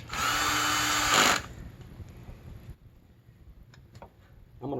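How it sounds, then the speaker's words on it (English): A power tool runs loud and steady for about a second, driving a bolt down through oily bolt holes on a hydrostatic drive housing, then cuts off, leaving a few faint clicks and taps. "I'm going to run a bolt down through all these holes to push all that oil out"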